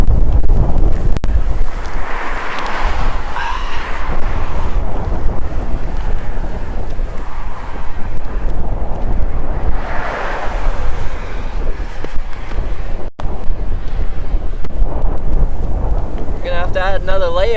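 Strong coastal wind at Port aux Basques, Newfoundland buffets the microphone in a loud, constant roar that surges and swells. The wind masks nearly everything else.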